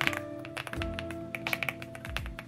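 Typing on an EPOMAKER x LEOBOG Hi75 mechanical keyboard gives a quick run of solid, close clacks in uneven bursts over a quiet room with a faint steady hum beneath.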